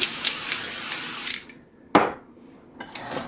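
Cooking spray hisses steadily into a hot pan for over a second, then stops; a sharp sizzle and faint clatter follow, close by.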